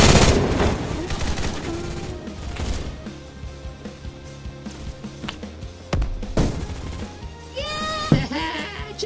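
Gunfire in a Roblox shootout, with sharp shots and bursts cracking irregularly over a busy game soundtrack, with voices and other game noises mixed in.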